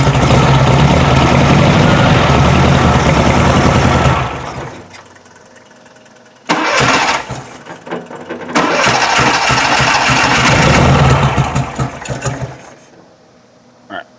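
A 1972 VW Beetle with a dual-carb engine runs loud and close with a rough, steady idle, cuts out briefly, restarts and idles again before dropping away near the end.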